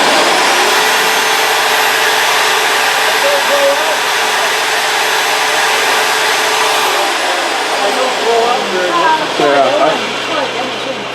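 A pancake air compressor's compressed air blowing out a Vevor wood planer makes a loud, steady rushing roar that runs the whole time, with voices talking over it toward the end.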